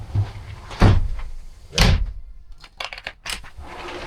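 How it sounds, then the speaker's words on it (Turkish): Cabin door on a Quicksilver 905 motor boat opening and closing, heard up close as a few hard wooden knocks and thuds with rattling latch clicks in between, no talk. "Buradan yine güzel bir kapı."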